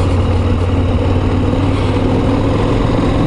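A KTM 890 Adventure motorcycle engine runs at low revs, a steady, loud, close rumbling drone with an even pulse and no speech.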